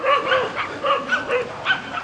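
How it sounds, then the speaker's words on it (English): Several dogs bark and yip repeatedly at a short distance, a steady run of overlapping barks with whimpering tones, heard alone without talk. "is some dogs barking over there"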